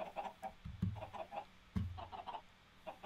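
Chickens cluck in Minecraft, a few short game-sound bursts of fowl calls close by and fairly quiet, with no talking.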